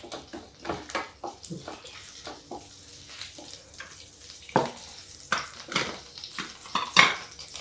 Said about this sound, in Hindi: देखिए मसाले हमारे तड़कने लग गए हैं।